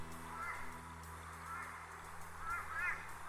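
A Pacific black duck calls at a bleak wetland by a concrete channel, a few faint, scattered honking quacks over a quiet, steady background hum.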